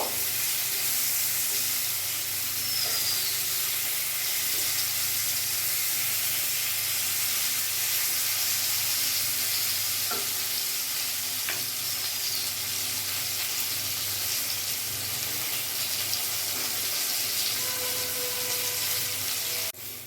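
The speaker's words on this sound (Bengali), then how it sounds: "এপিচ ওপিচ করে আমি ভালো করে এটা লাল লাল করে ভেজে নেব।" Pointed gourd (potol) fries in a pan with a constant, even sizzle and hiss that runs unbroken for the whole stretch, with no one speaking.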